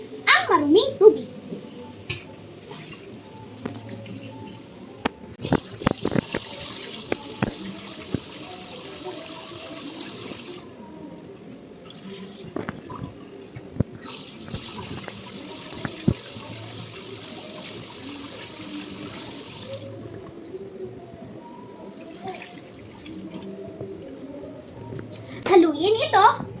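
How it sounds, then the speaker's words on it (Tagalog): Uncooked rice stirred gently in water in a kitchen sink or pot, then the rinse water poured out, with intermittent watery splashing and tap-like flow at moderate loudness, brief bursts of splashing, and a voice faintly in the background. "Haluin ito ng marahal. At itapon ang maruming tubig."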